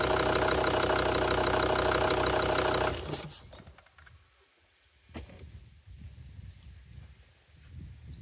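A Volvo D5 diesel engine idles loudly and steadily during an injector leak test, then cuts off abruptly, leaving a quieter room with faint clatter and rustling.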